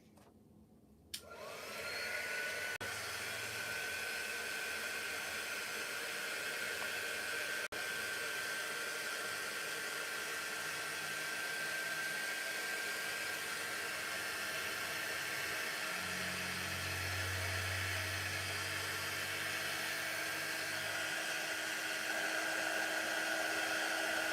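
A hair dryer runs steadily for about twenty seconds, drying handmade craft stars, a constant close whooshing hum that switches on near the start with a faint low rumble joining later; no one speaks over it.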